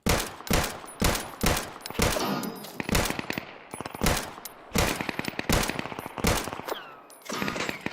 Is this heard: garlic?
no